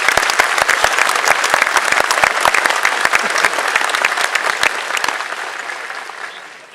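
Sustained applause from a large crowd at a graduation ceremony, steady and loud, slowly thinning and fading toward the end.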